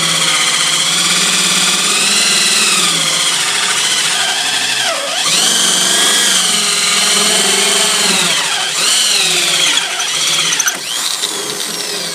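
A power drill with a hole-cutting bit bores into a kayak hull to fit a flush mount rod holder. It gives a loud, continuous high whine close up, with the pitch dipping and rising as the bit bites and the load changes.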